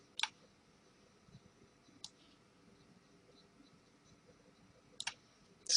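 Sharp computer mouse clicks sound close and crisp in a quiet room while lines are drawn in analysis software, a few isolated single clicks spaced seconds apart with near silence between them.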